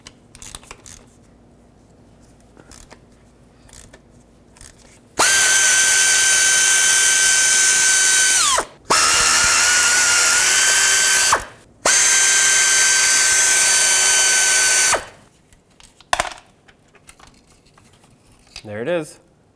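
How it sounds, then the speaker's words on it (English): Three loud bursts of a power tool spinning out 10mm bolts from the transfer case shift motor on a 2008-2010 Ford F-250, each a steady whirring run of a few seconds with short gaps, framed by quiet handling noises. "now we just have to unbolt the three 10mm bolts and get the motor out of here"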